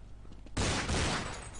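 Gunfire in the video game Counter-Strike during a competitive match: a short, loud rattling burst that starts suddenly after a quiet moment and fades out over about a second.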